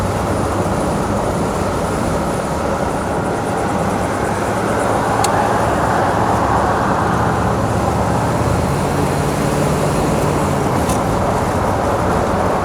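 1969 Corvette Coupe underway on the road, a loud steady engine and road roar from inside the car, holding level for the whole stretch, with a low rumble that shifts slightly as gears change.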